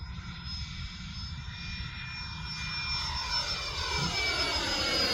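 A Freewing A-10 80mm electric ducted-fan RC jet flies at half throttle, a distant steady whine that slowly grows louder as it passes, heard alone outdoors.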